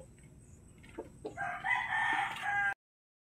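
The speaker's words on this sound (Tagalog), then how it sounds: "Yung isa ay matured na, natilaok na." A young rooster crows once, a single strained cock-a-doodle-doo lasting about a second, fairly close over faint background noise and a few soft clucks just before it.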